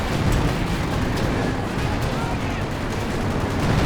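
An artillery barrage in Company of Heroes 2 during a 4v4 match, a dense continuous roar of booming impacts and gunfire, loud and unbroken throughout.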